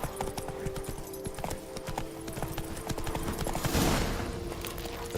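Horse hooves gallop in The Witcher 3 with a fast, continuous clip-clop rhythm over a busy game background, with a brief swell of noise near the end.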